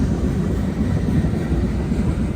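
A train rolls across a bridge overhead, a continuous low rumble of moving rail cars heard from beneath, steady and moderately loud with no voices.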